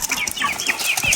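Rooster chicks of a knockout fighting breed kept at home, with soft flapping wing flutters and faint high chirps, close by and brief, no talking.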